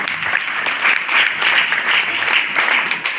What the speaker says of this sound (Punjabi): ਸਭ ਤਾੜੀ ਮਾਰਾਂਗੇ ਪ੍ਰਭੂ ਦੇ।